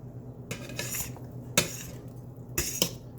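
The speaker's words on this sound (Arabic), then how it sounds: "هدول هناخد شوكتين نحرك فيهم." Two metal forks stir and scrape through an avocado salad in a bowl, giving a few sharp clinks and taps against a quiet kitchen background, loud and close.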